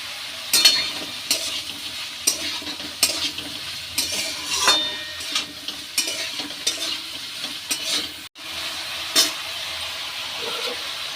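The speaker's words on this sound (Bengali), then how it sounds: "ঝিঙে আলু দিয়ে ভালো করে নাড়বো" Ridge gourd and potatoes are stirred in a sizzling pan, with repeated spatula scrapes and clinks over a steady low fry, close up and without talk.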